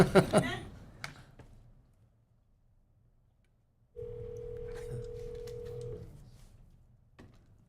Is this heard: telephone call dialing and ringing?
yes